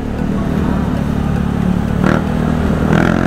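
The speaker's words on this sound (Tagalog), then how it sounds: "Ay, ingay ng motor na to." A noisy motorcycle engine passes close by on a city road while an e-bike cruises at about 40. Its steady drone rises at two moments, likely as it accelerates past.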